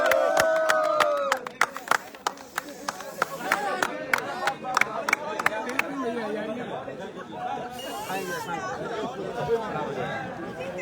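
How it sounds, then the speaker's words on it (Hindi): A crowd at a cake-cutting with film stars present claps in quick, sharp bursts at first, then settles into loud, close chatter and shouting from many voices. "ताली बजाइए"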